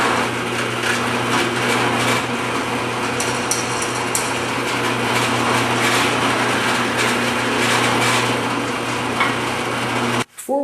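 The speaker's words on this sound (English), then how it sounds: "let's go ahead and drill our entry holes" A drill boring entry holes in maple for scroll saw work, a loud steady motor whine with a constant low hum running close and uninterrupted, then cutting off abruptly at the end.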